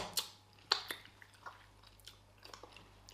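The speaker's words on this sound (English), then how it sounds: "See, you're still chewing." Someone chews a mouthful of rice and stew with fried plantain and chicken during a speed-eating challenge, giving a few close, soft, wet crunches and squishes over about three seconds with no one talking.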